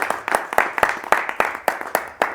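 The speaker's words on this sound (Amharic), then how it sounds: "አጨብጭቡ እስኪ ለጌታ" A church congregation claps for the Lord in a lively revival service, a steady, evenly spaced run of sharp, loud claps at a brisk tempo, with no talking over them.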